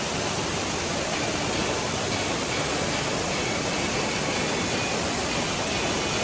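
Asik-Asik Falls, a wide curtain waterfall, pours with a dense, steady roar of rushing water, loud and unbroken from start to finish.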